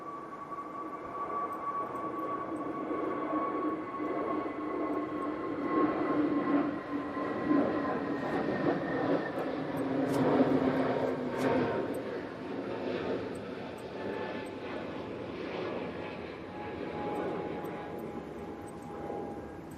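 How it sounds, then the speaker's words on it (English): An EasyJet airliner bound for Reykjavik takes off in gusty conditions, a steady mid-distance engine roar with a whining tonal hum and rumble holding fairly constant throughout, fading slightly toward the end. "I'll just let this EasyJet to Reykjavik go."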